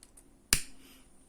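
A single sharp click from a lighter being flicked, close by and alone in a quiet room, with a short fading tail.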